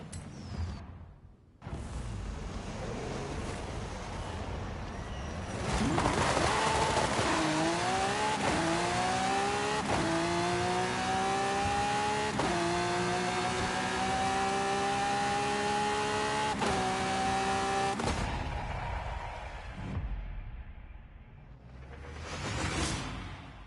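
A race car engine in Forza Horizon 5 revs hard, climbing in pitch through several gear upshifts with brief drops at each change, loud and continuous, then fades out with a whoosh near the end.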